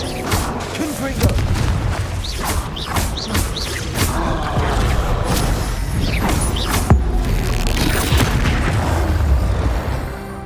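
Spell blasts and explosive booms from combat in the video game Hogwarts Legacy, several sharp bursts landing one after another over a dense, loud backdrop of game sound and music.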